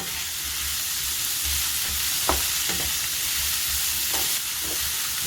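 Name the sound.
stirring leeks and green chillies in the pan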